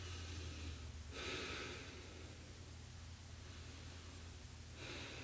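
Deep breathing during a vinyasa yoga flow: two slow, airy nasal breaths, one near the start and one at the end, faint over a soft background hiss.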